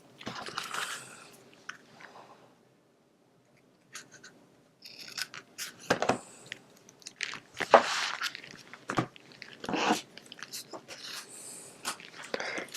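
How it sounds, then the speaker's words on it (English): Titanium scissors trim paper in a crafting setting, with a run of close, crisp snips and cuts in irregular bursts, a brief quiet gap, then denser clustered clipping noises. "And just give that a trim with my scissors."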